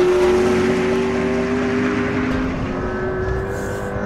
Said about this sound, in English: We put the P1 in its most aggressive setting to test it at Castle Combe.